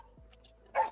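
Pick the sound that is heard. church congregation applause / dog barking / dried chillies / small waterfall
dog barking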